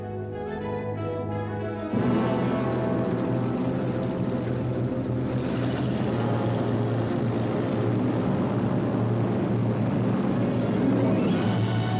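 British bomber aircraft engines droning in a steady, dense roar that swells louder after a quieter opening and then holds continuously, heavy and close, with no speech.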